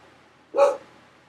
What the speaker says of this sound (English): these dogs are trying to kill one another